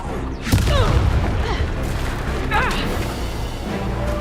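Confringo spell blast in Hogwarts Legacy: a sharp burst followed by a rumbling boom, with crackling debris and spell whooshes in the middle of combat, fairly loud.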